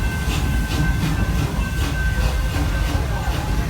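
A train on an amusement park railway at Busch Gardens Tampa rolls past with steady rumbling, rhythmic clickety-clack and a faint hiss, fairly loud and continuous.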